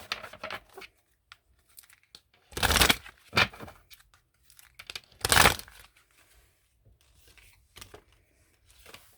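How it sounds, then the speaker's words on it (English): Shamanic healing oracle cards being shuffled and pulled, with short crinkly riffles and flicks of card stock, two louder shuffling bursts among quieter scattered rustles and handling sounds. "I'm going to pull some shamanic healing oracle cards."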